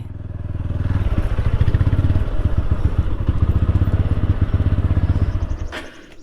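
A motorcycle engine idles loudly and close, with a rapid, even putter that stutters and cuts out near the end.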